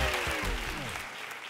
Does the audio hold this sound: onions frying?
no